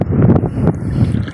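Strong wind gusting over a microphone aboard a small fishing boat at sea, a loud continuous rushing buffet for the whole brief moment with no voices.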